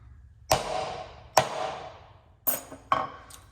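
A chisel driven into wood with a mallet while mortising, four sharp, close percussive knocks spaced about a second apart, each ringing out briefly, with no talking.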